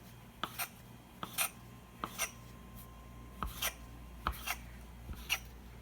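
A knife cutting cavatelli pasta dough into small pieces, a run of quiet, close, evenly spaced soft taps and scrapes against the board, about a dozen cuts in quick rhythm.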